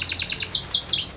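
A canary during mating sings a fast series of bright, sweeping chirps, first in quick repeated trills and then in longer descending whistles, close and clear against a quiet background.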